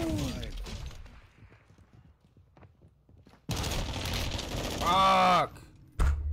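Loud bursts of gunfire crack out in Call of Duty Warzone, a sustained volley followed by a sharp final shot, with quiet game ambience before.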